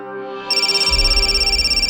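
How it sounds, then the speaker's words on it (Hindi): A phone ringtone begins after a short stretch of quiet, a bright electronic melody repeating in quick, even pulses over a low thumping beat, close and fairly loud. "फोन बज रहा है तुम्हारा।"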